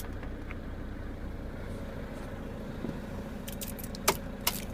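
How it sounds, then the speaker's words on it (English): Keys jangle briefly as they are pulled from the ignition of a merchandising van, two small metallic clinks near the end over a steady low engine hum. "I can now take the keys out of the ignition"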